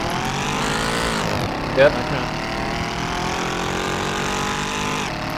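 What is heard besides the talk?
Mercedes C63 AMG car engine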